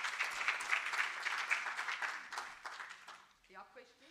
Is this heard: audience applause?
yes